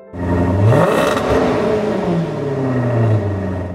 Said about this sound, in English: When the engine revs, there is no doubt that there is a truly aggressive power plant under the hood.